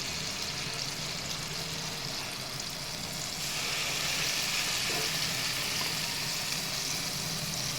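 A steady, broad hiss of oil frying fills the clip, getting slightly louder partway through and continuing evenly without voices.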